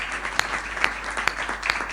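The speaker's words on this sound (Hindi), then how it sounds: "आपकी तालियां हल्की हैं" Applause from an audience at a Hindi comic poetry gathering, a steady wash of clapping with a few sharper claps standing out at regular intervals, fairly light and continuous throughout.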